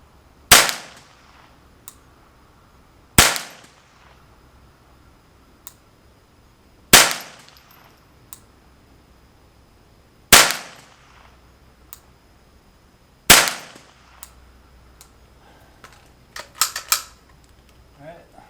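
A Ruger 10/22 rifle fires a five-shot group at 30 yards: five sharp, loud cracks spaced a few seconds apart, each with a short decay, followed by faint clicks and rattles.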